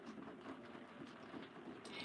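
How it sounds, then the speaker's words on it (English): Heavy autumn rain pours outside as a faint, steady hiss of falling water that holds evenly throughout without a break. "Yes, it is pouring here actually."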